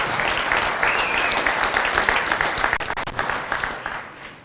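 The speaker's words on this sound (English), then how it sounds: "round of applause" Guests at a retirement party for a police chief break into applause: a dense burst of clapping that holds steady, then thins and fades away toward the end.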